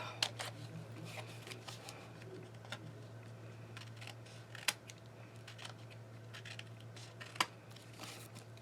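Scissors snip paper pieces for a handmade honeybee card, a quiet scatter of sharp clicks and cuts at irregular intervals over a low steady hum.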